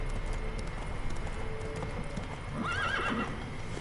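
Roach, a horse in The Witcher 3 video game, trots with a steady clip-clop of hooves over a noisy background, then lets out a loud, wavering neigh near the end.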